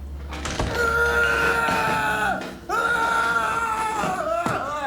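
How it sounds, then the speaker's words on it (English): Loud, sustained screaming with strained, wavering tones, broken by a short gap and a couple of thuds, a dramatic scream from the TV show Lost. "That sound, the scream."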